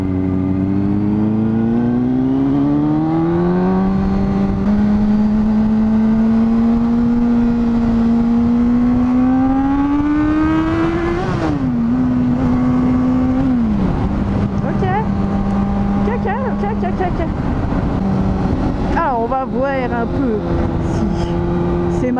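A 2001 Honda Hornet 600 four-cylinder motorcycle being ridden, its loud, close engine climbing steadily in pitch through the gears, shifting, then easing and revving again under constant wind rush.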